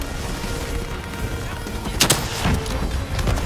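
Gunfire in the Call of Duty Black Ops 3 campaign: a low rumbling battle din with a sharp burst of shots around the middle and scattered further shots after, no speech.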